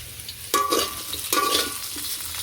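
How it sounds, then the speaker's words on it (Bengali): Potatoes being stirred and fried in oil in a pan for a village chicken curry, with two sharp scraping stirs over a soft continuous sizzle. "আর এদিকে আলুগুলো ভাজা হয়ে গেছে"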